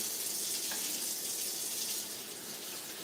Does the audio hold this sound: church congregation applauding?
no